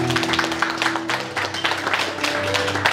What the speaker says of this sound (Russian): Ну а сейчас давайте поддержим аплодисментами нашего молодожёна